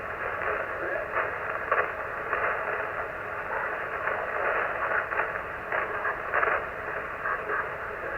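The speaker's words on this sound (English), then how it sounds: "you probably heard the static crashes I'm getting too" Steady hiss of static on a 40 metre amateur radio band, broken by irregular bursts of crackling crashes throughout, with no voice present.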